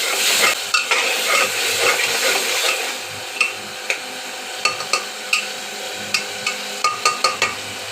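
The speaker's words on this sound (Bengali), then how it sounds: "এবার সবজিটা ওর মধ্যে ঢেলে দিই, দিয়ে নাড়িয়ে দিলাম" Potato curry vegetables are stirred in a hot frying pan. A loud sizzle opens the sound, then a spoon scrapes and knocks against the pan in a regular rhythm close by, with no voices.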